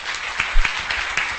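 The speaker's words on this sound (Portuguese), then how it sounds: "Alan, um aplauso, por favor." Audience applause for Alan, a company's head of governance, risk and compliance, at a panel of a social-observatory conference, a short burst of dense clapping with a few sharper claps standing out.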